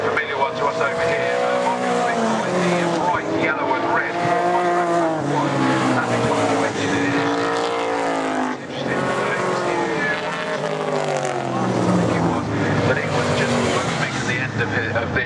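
V8 race car engines roar and whine loudly at high revs on the Brands Hatch circuit, rising and falling as cars speed past, with a voice talking over the noise.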